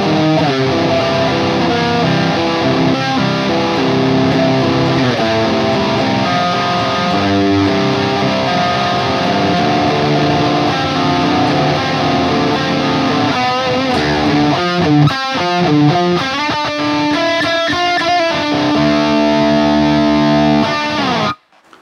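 Distorted electric guitar played through an Axe FX II rhythm tone, loud and tight, running fast shred melodies and riffs. The runs go on without a break and end in sustained bends and held notes just before a sudden cutoff.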